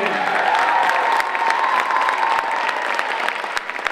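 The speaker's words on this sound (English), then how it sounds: "Can we have a round of applause for all of our candidates this evening?" Steady audience applause mixed with cheering and a few whoops for the candidates at a high school evening event, dense and fairly loud throughout without a break.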